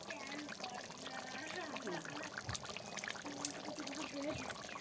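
Cooked mutton curry, a thin gravy with little spice made in a village-style kitchen, is poured from the pot in a faint, steady liquid trickle under background voices.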